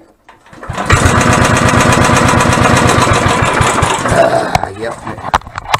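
A small gasoline portable generator engine sputters to life and runs loud and steady nearby with a rapid chugging putter, then cuts out and falters near the end.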